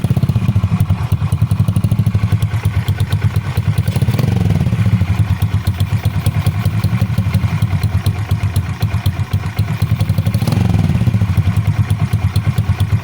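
A Honda XRM 125 motorcycle engine runs nearby with a loud, steady rhythmic putter and mechanical clatter, its revs swelling briefly twice.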